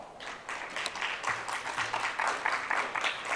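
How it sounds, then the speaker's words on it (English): Quiet, somewhat distant audience clapping after a presenter at a small business summit, made of individual claps with a faint low hum underneath. "Please give her a round of applause."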